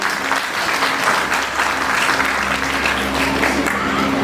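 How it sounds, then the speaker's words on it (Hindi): A large audience at a direct selling company event gives loud, sustained applause, a dense wash of clapping close by that holds steady throughout. "जोरदार ताली।"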